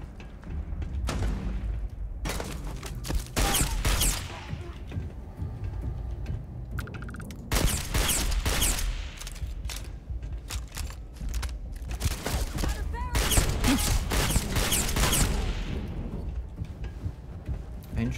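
Clusters of loud gunshots and booming blasts crackle in bursts, with voices talking in between.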